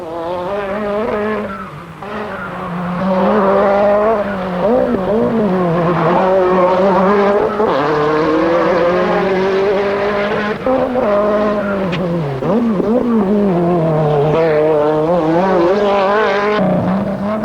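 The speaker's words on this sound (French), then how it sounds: "C'est Chatriot qui s'élance le premier" A 1986 Rallye du Var rally car, an Alfa 75 with a V6, launches hard from the start line, its loud engine rising through revving gear changes with brief tyre squeal, close and steady for most of the run.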